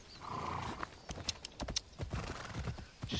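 Hooves clip-clop from a horse in the video game Assassin's Creed Odyssey, a rapid run of sharp taps building closer, with a neigh mixed in and no talking.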